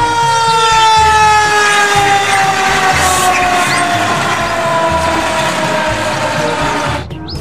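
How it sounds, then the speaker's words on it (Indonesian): A loud, continuous toy fire truck siren wails in steady rising tones, electronic and close, cutting off abruptly near the end. "lihat teman-teman, di sini ada mobil pemadam kebakaran"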